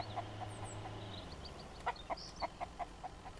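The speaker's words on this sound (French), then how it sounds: "On va aller s'occuper des poules." Chickens in the survival game Mist Survival cluck softly in a series of short, evenly spaced clucks over a low background hum, faint and fairly close.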